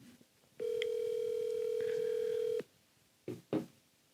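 Phone call placed on speakerphone: a single steady electronic ring tone holds for about two seconds, then cuts off, followed by a couple of brief faint blips, close and clear.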